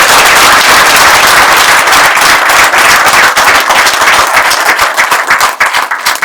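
At a youth campaign event in Gyumri, Armenia, a crowd applauds a team. The clapping is loud and dense and lasts the whole time, then thins slightly toward the end, with no talking.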